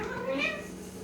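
A cat gives a single short meow with rising and falling tones, close and moderately loud over a soft background, lasting about a second.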